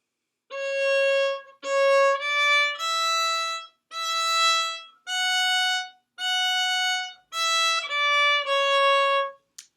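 A violin plays a slow melody of about ten sustained notes, each separated by a brief gap, clear and close with no talking.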